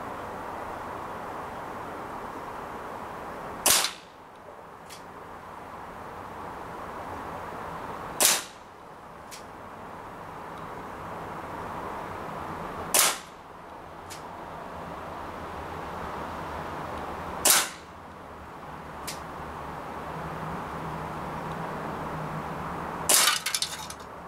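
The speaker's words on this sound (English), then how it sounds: "Shooting at the tin can again, just video filming from a different angle." An ASG Dan Wesson 715 .177 pellet air pistol with a 2.5-inch barrel fires five sharp, evenly spaced shots at a tin can, each crack loud and close over a steady low background hum.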